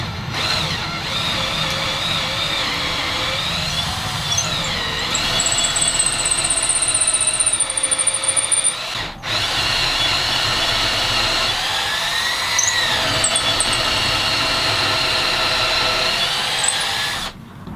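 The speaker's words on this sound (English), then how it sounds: "I'm going to drill straight down through and glue in some dowels." A power drill bores straight down through wooden boards to make holes for glued dowels, whining loudly and continuously with slight pitch changes and a brief break midway.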